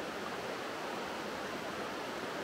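River water flowing steadily through a leafy forest on a dull, drizzly day, a constant soft rushing hiss with no breaks or other sounds.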